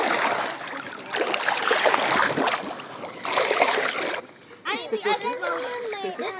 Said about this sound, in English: Y'all hear this water?